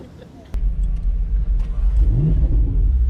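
Ferrari 488 Pista on the Nürburgring, its engine kicking in suddenly after a quiet start and rumbling deeply as it accelerates, with a rising whine and some talk over the top.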